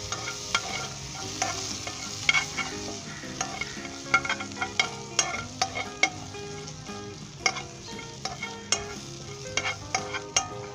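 Green cardamom and vermicelli roast in a pan with a steady sizzle while a utensil stirs and scrapes in frequent, uneven clinks and scrapes, close and fairly loud, with no talking.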